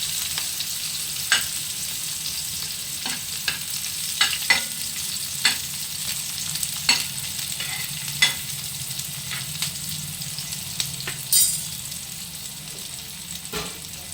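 Onion and garlic sautéing in a pan for a dried prawn dish, a continuous close sizzle with regular light taps and scrapes of a spatula stirring through it.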